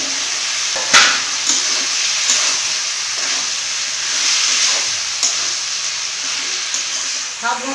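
Spiced masala with melted tomatoes, fried potato and pointed gourd sizzling and hissing in a pan, with intermittent stirring clinks and scrapes over a constant loud fry.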